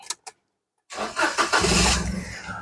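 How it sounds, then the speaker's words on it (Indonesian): A 2014 Toyota Agya 1.0 TRD Sportivo manual with about 104,000 km gives two short clicks, then a brief pause before the starter cranks and the engine catches and settles into a loud, close idle. "Oke, sekarang kita coba nyalakan mobil."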